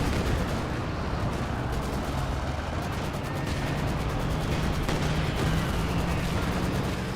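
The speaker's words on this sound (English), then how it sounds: "Good AT grenade there on the Panther." Explosive impact of an anti-tank grenade striking a Panther tank in the World War II strategy game Company of Heroes 2, set amid continuous loud battle noise with gunfire and blasts running throughout.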